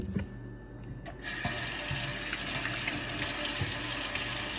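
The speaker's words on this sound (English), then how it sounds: "I'm going to wash my hands again." A kitchen tap runs steadily as hands are washed beneath it, a close, continuous rush of water after a brief click and clunk of the handle.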